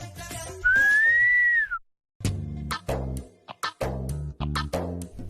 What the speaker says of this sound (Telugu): వీళ్ళిద్దరూ ఈల పాటలో మాట్లాడుకుంటున్నారు